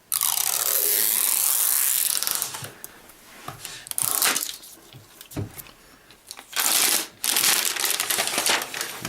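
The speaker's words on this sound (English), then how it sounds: "So we have a little zipper here to pull down to release it." Plastic wrapper being zipped open and peeled off an Apple Mac Pro, giving loud crinkling, tearing and rustling bursts up close with brief quieter pauses between pulls.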